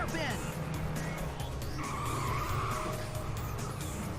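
A car skids and squeals its tires in the racing video game Stunt Track Challenge, with engine drone and a drawn-out screech mid-clip, someone talking over the continuous game sound.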